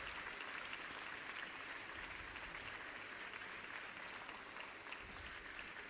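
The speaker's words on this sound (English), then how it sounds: "Applause for Volkshochschule Weimar and Goethe-Institut in Rome." Steady applause from a conference audience greeting award winners at an adult education conference in Leipzig, an even, unbroken wash of clapping that holds at a constant level for the whole stretch.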